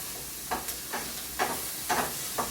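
Food sizzles steadily in a hot pan, with a constant crackling hiss and several brief louder bursts as it is stirred.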